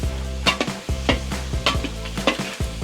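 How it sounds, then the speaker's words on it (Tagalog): Onions sautéing in margarine in a pan at a family feast in Batangas, with a steady sizzle under repeated sharp stirring and utensil scrapes against the pan, close and fairly loud, with no talking. "Nagpabango na ng sibuyas."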